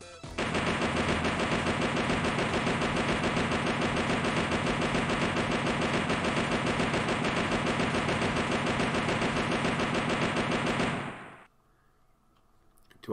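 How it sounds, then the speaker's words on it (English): A video game minigun firing in one unbroken, rapid buzzing stream for about eleven seconds, loud and close, before cutting off abruptly into near silence. "I've used all my ammunition for my minigun"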